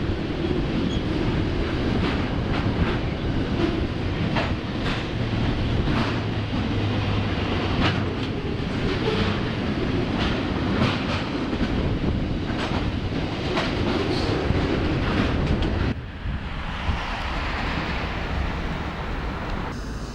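A train rumbles past on the track, loud and continuous with rhythmic clattering of wheels, then the roar drops off slightly near the end.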